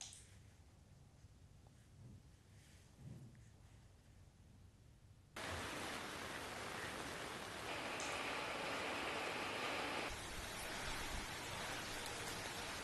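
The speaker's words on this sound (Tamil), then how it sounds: "சென்னையில் நேற்று மாலை ஐந்து மணிக்கு மேல் கனமழை கொட்டியது" Heavy rain pours down in Chennai in the evening, a steady dense hiss that starts quieter and then jumps to a loud, continuous roar with no voices.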